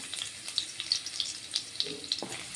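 Finely chopped garlic is added to heated oil and frying in a pan for egg noodles, crackling in quick, bright, irregular bursts close by, with no speech.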